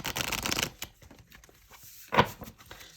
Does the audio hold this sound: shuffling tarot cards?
yes